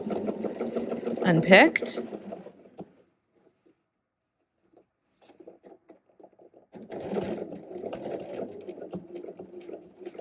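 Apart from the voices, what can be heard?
sewing machine stitching a ready-to-wear waistband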